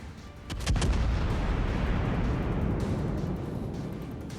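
Heavy ship guns fire in a naval video game, a single deep boom at the start followed by a long rumbling roar of sustained battle noise, loud and close with no talk.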